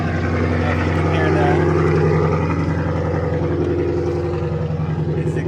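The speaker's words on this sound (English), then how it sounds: "His exhaust is insane." A loud car exhaust roars with a deep, steady rumble and a rough throaty growl that holds throughout, close by.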